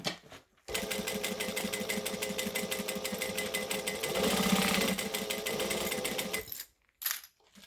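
A sewing machine stitches a fabric leg strap in a continuous loud, fast mechanical whir lasting about six seconds, then stops and gives one short final burst.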